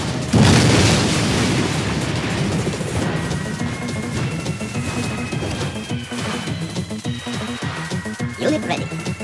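Submarine missiles exploding in Command & Conquer Yuri's Revenge: a heavy booming blast opens, followed by a dense rumble of further explosions and battle noise that carries on throughout.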